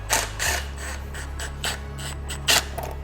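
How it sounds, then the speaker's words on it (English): Clamp being loosened on the turbo of a Honda FL5 Type R, giving a few short ratcheting and metallic clicks in separate bursts over a steady low hum. "Now I'm gonna loosen this clamp."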